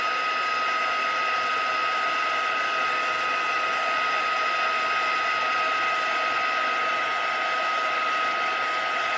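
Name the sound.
heat tool (embossing heat gun) blowing on high speed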